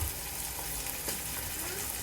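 Chicken pieces frying in hot oil on top of onions over a medium-high flame, giving a dense, continuous sizzle with a few brief crackles, close and moderately loud, with no talking.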